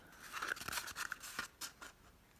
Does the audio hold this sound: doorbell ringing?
no